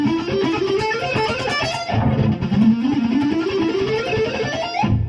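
A distorted electric guitar runs fast ascending picked sequences over groups of two strings against a backing track, the lines climbing steadily in repeated waves, loud and continuous.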